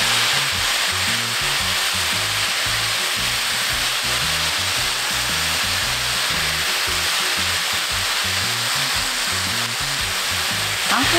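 Carrot and zucchini stir-fried in a pan with softened potato give a loud, continuous sizzle and crackle that runs unbroken, with no voices.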